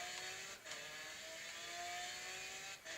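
A Lamborghini Centenario engine in Forza Horizon 3 roars steadily at high revs, with brief dips like gear shifts, sounding synthetic and continuous with no voices.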